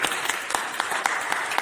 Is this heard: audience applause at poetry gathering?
yes